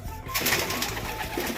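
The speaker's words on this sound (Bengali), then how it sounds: "পোকরাজ চোখের পায়রা।" A pokhraj-eyed flying pigeon coos softly nearby, low throaty burbling notes under a backdrop of other birds.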